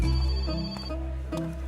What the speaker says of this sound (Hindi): तभी उसका मोबाइल बजा।